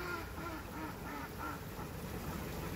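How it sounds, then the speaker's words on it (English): Ducks quack repeatedly on the water at Wheeler Farms, a steady run of nasal calls in a busy, close chorus with no talking. "The ducks will be excited to see you."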